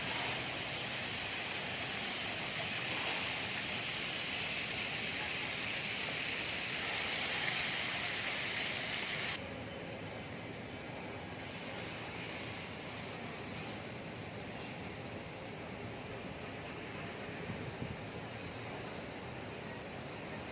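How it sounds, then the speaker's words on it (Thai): Continuous rushing water of a waterfall in the Dusit Central Park rooftop garden in Bangkok, a steady broadband hiss that drops in level partway through as if moving farther away, with no talk. "มีน้ำตก"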